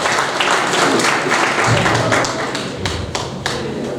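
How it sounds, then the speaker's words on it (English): A conference audience breaks into a round of sustained applause, dense and loud, with many hands clapping steadily throughout and no talk over it. "Let's give him another round of applause"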